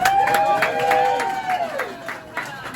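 An audience at a Salem Cross Inn fireplace feast claps and cheers for Lucy in a short, lively burst of applause, with mixed voices over the clapping.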